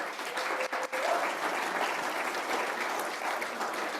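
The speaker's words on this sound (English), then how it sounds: "Let's give them a round of applause." A church congregation claps at a worship service, a steady round of applause from a moderately sized crowd, with a brief dip near the start before continuing evenly.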